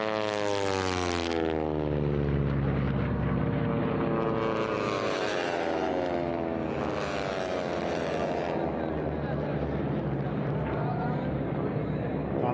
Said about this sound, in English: That beautiful music of the Pratt & Whitney air-cooled 9-cylinder engines and those 9-foot-long Hamilton standard metal props with the tips going supersonic